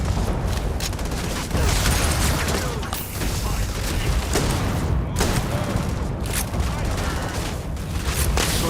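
Game gunfire from a two-round burst weapon in Starfield, with dense, sustained blasts and booming impacts filling the scene at steady loudness throughout, a voice talking faintly underneath.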